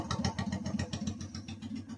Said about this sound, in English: right now I got a good sounding motorcycle